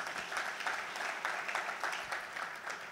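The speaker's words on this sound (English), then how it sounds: "Let's give them a round of applause" Audience applause at an education event for teachers, a steady, fairly faint and distant wash of many people clapping with slight swells, continuing without a break.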